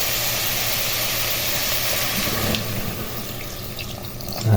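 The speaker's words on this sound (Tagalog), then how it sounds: "Lagyan na natin ng tubig." Water pours steadily into a cooking pot holding chicken feet, tomatoes and aromatics, a continuous close splashing rush that eases off toward the end.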